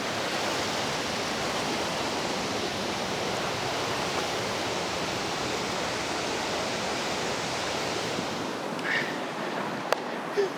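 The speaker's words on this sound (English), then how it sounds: "behind me is the second must-visit waterfall in the Brecon Beacons National Park" A waterfall in the Brecon Beacons National Park roars with a loud, steady, broadband rush of falling water close by, continuous for ten seconds with a few faint knocks near the end and no voices.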